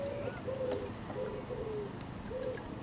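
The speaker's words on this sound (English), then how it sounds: "cuckoo" Repeated two-note cuckoo calls, about five in a steady rhythm, carry from a short distance across a calm canal, heard alone over a low electric boat motor hum.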